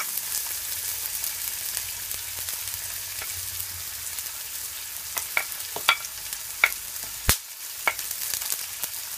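Onions, ginger and garlic frying in a pan, a steady close hiss of sizzling with scattered sharp pops and crackles growing busier toward the end, no voices.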